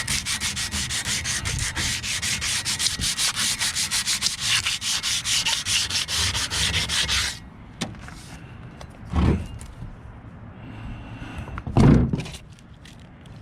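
Sandpaper scrubbing rust off car brake rotors: about seven seconds of fast, rhythmic back-and-forth rasping strokes close by, then quieter scrapes with a couple of louder rubs and knocks.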